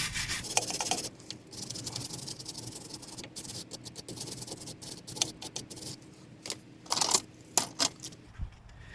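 Old dirt is scrubbed off a castle nut on the front steering of a 1974 Chevrolet, giving quiet close brushing and rubbing strokes broken by several sharp ticks and clicks toward the end.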